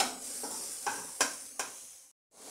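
Garlic and onion sauté in a pan for an aloo shimla mirch sabzi: a low sizzle is broken by four brisk spatula scrapes and stirs, and then goes quiet for a moment before resuming.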